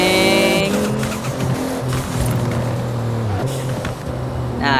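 A Toyota Supra drifting in Forza Horizon, with a loud, sustained tire squeal over a revving, droning engine that shifts pitch through the slide.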